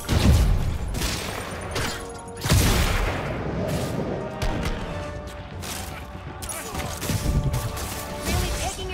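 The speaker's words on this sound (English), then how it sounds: "Grenade incoming!" Loud booms and crashing blasts from a grenade explosion in the Spider-Man Remastered video game, with a heavy opening hit, a second impact, then a dense rumbling fusillade of combat noise.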